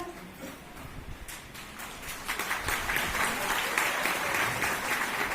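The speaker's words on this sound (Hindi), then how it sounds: "इतनी तालियां तो सारे हिंदुस्तान में बजती है, कानपुर में भी इतनी बज रही है।" A Kanpur crowd at a live show breaks into applause that starts scattered and swells into full, sustained clapping, fairly distant and filling the hall.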